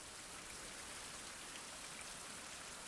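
Rain falls in a survival video game, a steady, even hiss of drops with no voices, quiet and continuous throughout.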